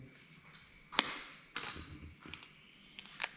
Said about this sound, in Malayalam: ഇനിയിപ്പോൾ ഒരു മുട്ട പൊട്ടിക്കാം.